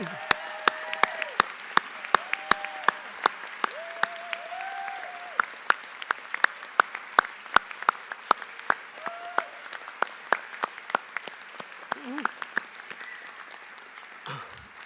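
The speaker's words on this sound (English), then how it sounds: "let us give you a round of applause" At a college of the arts ceremony, an audience applauds the college staff with sparse, sharp, evenly spaced claps, while faint tonal sounds drift underneath.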